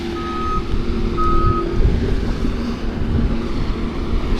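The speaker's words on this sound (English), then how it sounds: "And these are the big trucks right here, probably drop the salt." Big salt trucks work a New York City street during a snowstorm, a truck's reversing beeper sounding in repeated pulses over a steady diesel engine rumble and wind noise.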